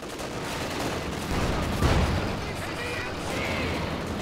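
Gunfire and heavy cannon booms in a Company of Heroes 2 battle as a Panzer IV tank attacks a .50 cal machine gun position, continuous crackling fire with a louder thump near the middle; game commentary runs over it.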